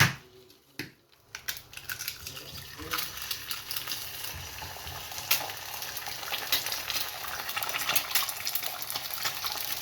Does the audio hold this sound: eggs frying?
yes